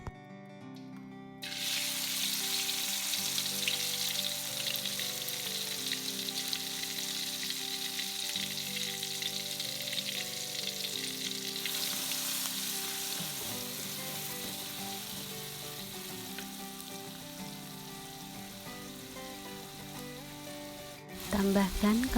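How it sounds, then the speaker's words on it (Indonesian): Hand-ground spice paste goes into hot oil for a village-style eggplant dish, setting off loud, continuous sizzling and crackling frying that runs steadily for about twenty seconds, with occasional stirring scrapes and a low hum underneath. "Lalu kita masukkan bumbu yang sudah diulek tadi."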